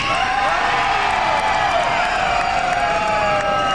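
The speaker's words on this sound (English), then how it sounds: "Not good enough! Scream!" At the 1994 Universal Studios Florida Animal Actor Stage show, a crowd screams and cheers loudly and continuously. Many overlapping high-pitched shrieks and whoops ride on a dense crowd roar.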